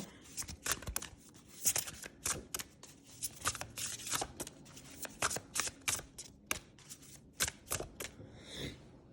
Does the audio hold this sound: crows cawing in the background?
no